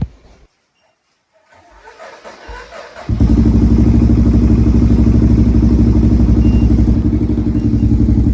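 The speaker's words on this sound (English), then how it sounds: "just gonna idle it up a little bit because it sounded like it was idling low." A brief quiet stretch with soft clatter, then a 2007 Honda 400EX ATV engine starts and settles into a loud, steady rumbling idle that slightly rises in pitch as the idle is raised.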